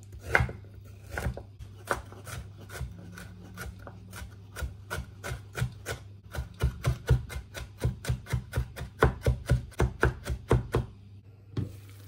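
Rapid, steady knife chops on a cutting board mincing onion, ginger and garlic, dozens of crisp taps speeding up into a quick mincing rhythm, close and clear over a faint hum.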